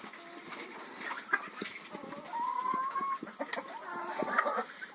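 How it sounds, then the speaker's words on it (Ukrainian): Hens clucking in a farmyard henhouse near a rooster, alongside guinea fowl, during an evening round to collect eggs; soft overlapping clucks and short calls come from close by, with a sustained tonal call midway and scattered rustling. "О, деякі курочки вже тут сидять"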